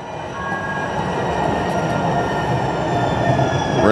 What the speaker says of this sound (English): Looks like we got a train coming. Or a trolley, or what is this?